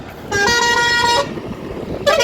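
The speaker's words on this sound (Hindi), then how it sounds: "बजाओ बजाओ हॉर्न बजाओ भाई" Vehicle horn honking on a road during a long cycle trip from Gujarat to Ayodhya: one sustained blast of about a second, then a second honk starting near the end, over steady road noise.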